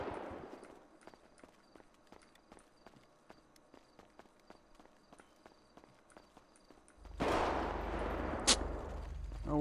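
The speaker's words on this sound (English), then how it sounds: "That's way too many shots." Gunshots in the GTA RP video game, set in a city, a long run of sharp evenly spaced cracks fired in quick succession, followed by a louder burst of noise near the end.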